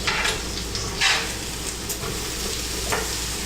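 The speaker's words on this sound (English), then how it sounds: "you can hear the sizzle" Chicken and yellow squash sizzle steadily in a hot pan, a constant crackling hiss with a few brief scraping stirs, no talking.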